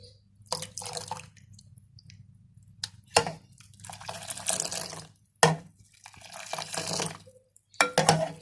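Pink Kashmiri tea being poured and splashed in several short bursts, close and moderately loud with pauses and a low steady hum underneath, no talking.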